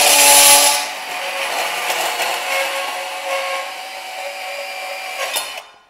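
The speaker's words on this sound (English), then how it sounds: "I'm gonna go ahead and grab my bandsaw and I'm gonna cut that." A bandsaw cuts through electrical conduit pipe, a steady, close, metallic grinding whine that holds for several seconds and then cuts off abruptly as the blade finishes.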